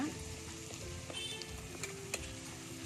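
Food fries in hot oil in a home kitchen while drumstick-leaf pickle is prepared, giving a continuous close sizzle with a few faint clinks and stirring sounds over it.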